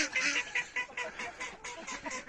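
Chickens in a yard give a run of rhythmic, nasal clucking calls close by, repeating in quick bursts with brief gaps.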